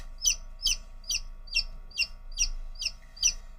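Homegrown mixed-breed Easter Egger chickens clucking in a quick, even series of about eight close, clear calls, with no talk over them.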